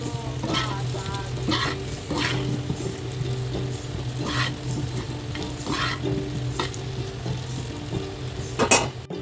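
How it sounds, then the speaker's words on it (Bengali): Potatoes seasoned with turmeric and salt fry in a pan with a steady, close sizzle. Scraping stirs recur under it, and a louder clatter lands near the end. "এরপর সুন্দর করে এটাকে ভেজে নিবো একটু দাগ লাগিয়ে ভাজতে হবে"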